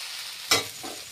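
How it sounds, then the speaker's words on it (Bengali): Chow mein is stirred and fried in a pan: a soft continuous sizzle with one sharp scrape of the spatula, followed by a fainter second stir, all in a short close burst. "চাউমিনটা খানিকক্ষণ ধরে নাড়িয়ে তারপর এটাকে নামাতে হবে"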